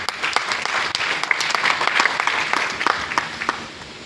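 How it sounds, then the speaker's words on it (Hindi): Loud, dense applause from a live audience at a stage event, steady clapping filling the whole stretch with sharp individual claps poking through. "एक बार जोरदार ताली होना चाहिए।"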